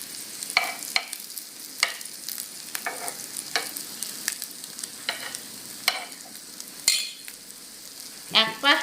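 Cold rice pitha frying in a pan, a soft steady sizzle broken by scattered clinks and scrapes of a utensil, ending with a louder burst of crackling near the end; no one talks.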